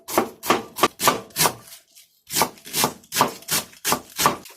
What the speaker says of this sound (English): Cut in half like this,